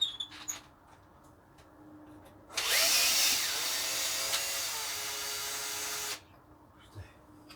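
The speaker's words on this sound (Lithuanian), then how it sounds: "Tai ką belieka dabar atsukti tuos varžtus iki galo." A power tool whirs loudly for about four seconds, unscrewing bolts on an OMC 235 exhaust manifold. Quiet shop background and faint clicks come before and after the burst.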